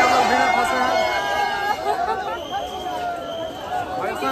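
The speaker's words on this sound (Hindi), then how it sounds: "आप लोग देख सकते हैं संतोष मित्रा के बाद कितना भीड़ है" Dense crowd at a busy fair in Kolkata, a steady loud hubbub of many overlapping voices and movement close around, with chatter rising and falling throughout.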